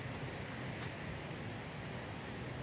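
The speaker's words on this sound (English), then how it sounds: "look at the wind in these trees. I mean, we have wind today" High wind blowing through trees on a cold day, a steady broad rushing roar with no gaps, fairly faint and heard alone without voices.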